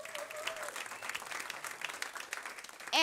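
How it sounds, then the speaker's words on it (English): Steady applause from a sizable audience, broad and continuous clapping for the full stretch, moderately loud and fairly distant. "so give them a round of applause"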